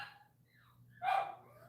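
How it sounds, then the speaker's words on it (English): Dogs barking in a home, a faint distant yelp followed by a louder single bark in the background. "can y'all hear my dogs?"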